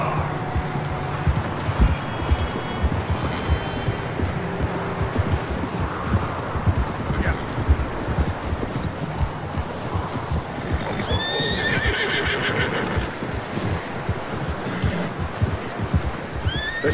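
Horses in Red Dead Redemption 2 whinny loudly and their hooves clip-clop close by over a steady windy outdoor ambience, with a neigh rising prominently partway through.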